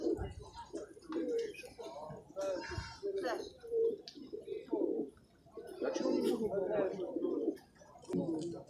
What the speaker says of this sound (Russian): Красивые чернышие голуби.